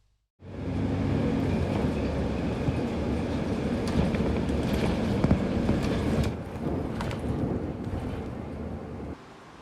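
A continuous rumbling roar of a Kuala Lumpur metro train running on rails, steady and loud, easing slightly toward the end, with no voices.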